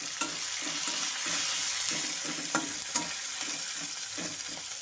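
Rice, slit green chillies, cumin and crushed garam masala stir-fried in a pan, with a steady close sizzle and repeated scraping strokes of a spoon at an even rhythm.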